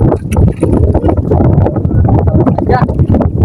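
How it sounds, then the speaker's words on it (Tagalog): Strong wind gusts across an open microphone near the water as a typhoon passes, a loud steady rumble of buffeting with a boat engine mixed in, while someone talks over it. "malakas pa yung hangin mga idol"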